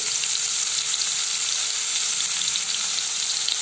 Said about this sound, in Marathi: तेल गरम झाल्यानंतर त्यात असणार आहे मी विलायची, दालचिनी,